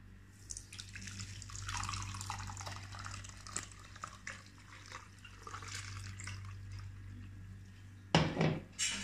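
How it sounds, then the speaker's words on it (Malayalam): Mint and lemon juice strained through a sieve drips and trickles softly and continuously, faint splashes under a low hum, ending with a brief louder clatter. "ഇനി നമുക്കിതൊന്ന് അരിച്ചെടുക്കാം."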